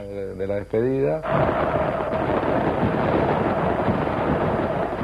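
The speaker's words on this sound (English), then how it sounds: "His surprise, arranged by Boca's top hooligan, was an illegal fireworks display." An illegal fireworks display at a Boca football match: after a brief sung or shouted voice at the start, a loud, dense crackling roar of bursts and crowd noise fills the rest.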